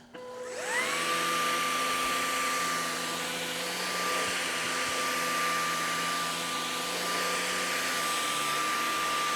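LEVOIT cordless vacuum cleaner picking up flour from carpet, starting with a quick rising motor whine that settles into a steady high-pitched hum with airy suction noise, close and continuous.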